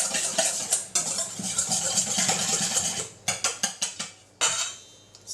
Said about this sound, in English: So give it a good whisking.